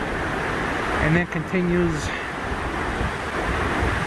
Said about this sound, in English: the little river forms right here at the bottom of the waterfall